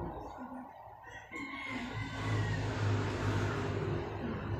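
A rooster crows in the distance while chickens cluck nearby, set against a steady background hum of outdoor noise.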